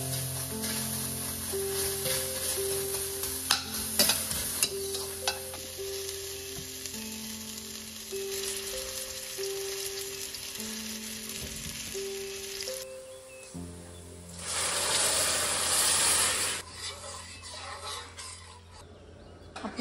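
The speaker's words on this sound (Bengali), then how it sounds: "পেঁয়াজ আদাকে ভালো করে কেড়ে নিচ্ছি।" Onion and ginger stir-frying in a pan, a steady sizzle with occasional clatter from stirring, joined by a sustained melodic tone for much of the time, then a louder, hissier burst of frying toward the end, with no talking.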